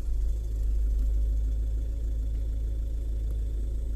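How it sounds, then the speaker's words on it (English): A Volvo V50 car engine idling steadily, with a low continuous rumble close by and no talk. "Okay, let me start the car."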